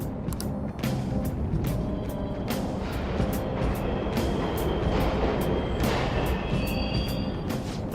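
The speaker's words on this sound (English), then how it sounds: "The trains are totally running!" Subway trains running in a station within the video game Persona 5 Royal: a steady low rumble and mechanical rattle with repeated creaks and clanks, a faint high whine near the end, heard alone without voices.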